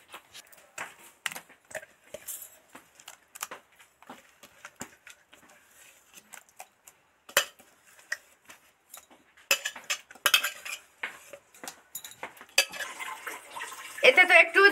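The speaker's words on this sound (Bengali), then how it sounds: "এবার এটা একটা পাত্রে ঢেলে নেব।" Thick, freshly ground young green pea paste, made without water, is scraped and tipped from a grinder jar into a bowl. Scattered light clinks and scrapes of the jar come first, then busier, louder scraping and knocking toward the end.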